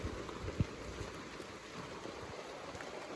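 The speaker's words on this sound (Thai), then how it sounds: "เบิ่งฝนตกตลอดเลย" Steady rain pours outdoors in a rural countryside setting during the rainy season, a continuous wash of falling water with scattered pattering drops and one brief sharp knock, fairly faint and even, with no voices.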